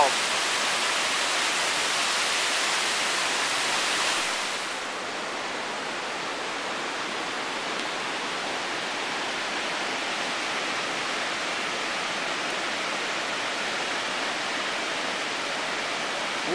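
Constant roaring rush of Rainbow Falls in Stehekin in autumn, broadband and unbroken, easing slightly in brightness partway through but continuing steadily.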